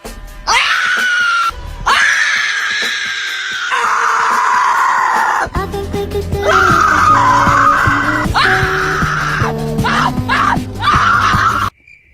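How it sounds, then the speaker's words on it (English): People screaming in a long, loud, sustained series of high wailing shrieks, broken by brief pauses, with a lower droning layer underneath through the middle section. "Did you know they got this little screaming thing they do?"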